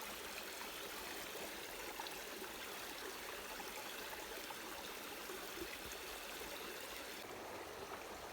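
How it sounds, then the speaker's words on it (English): Water swishes steadily in a small gold pan as it is worked down to the black sand, a continuous close trickling and sloshing wash with no talk. "So we pan that first little pan down to the black sand now."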